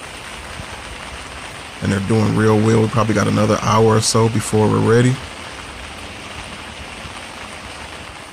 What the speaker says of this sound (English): More rain, guys, more rain.